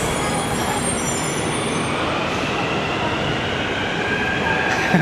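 A Hyderabad metro train rumbles steadily close by after its doors close, with wheel noise and a faint high squeal building as it moves off.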